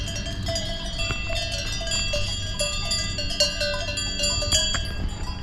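Many cowbells clank and tinkle irregularly across a pasture near Gruyères Castle in Switzerland, a steady jangling chorus with no voices.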